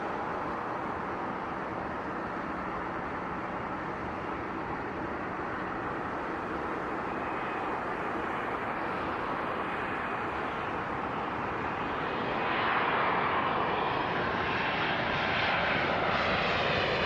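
Boeing 787 Dreamliner jet approaching at Toronto Pearson airport, a broad steady engine roar that slowly builds and swells louder near the end as the aircraft draws closer.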